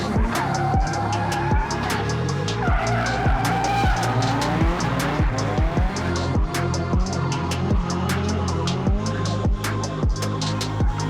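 A drift car during a passenger ride-along at Watkins Glen, tires squealing and skidding continuously over a loud, revving engine that repeatedly climbs and drops in pitch, close and intense throughout.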